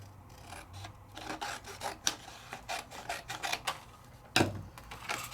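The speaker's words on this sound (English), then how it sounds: "I'm gonna cut some opulent paper" Scissors cutting through two stacked sheets of gold opulent craft paper at once, giving a run of soft rasping snips and rubs at close range, with one sharper crunch near the end and no talking.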